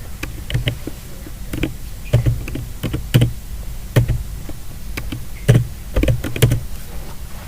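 Computer keyboard keys are typed in uneven bursts of close, crisp clicks, with short pauses between runs of keystrokes and no talking over them.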